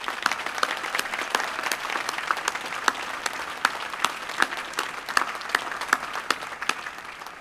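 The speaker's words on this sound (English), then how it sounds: "I ask that you join me in a huge round of applause" Graduation crowd applauding during university final exercises, dense sustained clapping from a large outdoor audience with a few sharper individual claps standing out near the front, steady and loud throughout without speech.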